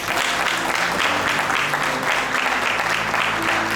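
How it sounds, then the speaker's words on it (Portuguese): A congregation in a church claps in steady, rhythmic applause, loud and close, lasting a few seconds without any talk over it. "Dê um aplauso aí."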